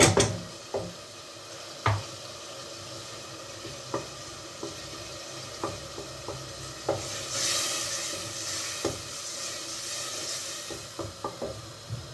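A spoon stirs tomato paste in a frying pan with soft sizzling underneath, scraping, irregular knocks against the pan and a brief hiss midway.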